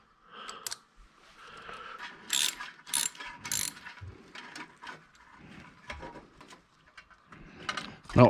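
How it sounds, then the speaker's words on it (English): A ratchet works a bolt loose on a car's brake pedal, giving bursts of quick clicking that stop and start in short, fairly close strokes. "I have to undo a bolt here"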